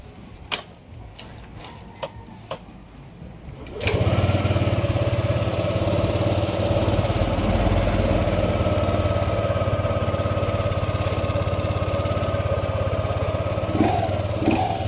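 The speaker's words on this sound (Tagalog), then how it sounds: "umaandar na yung motor" A Yamaha Aerox 155 V1 scooter engine, freshly fitted with a new spark plug, catches after a few clicks and light knocks, then idles loudly and steadily with a slightly high, even buzz.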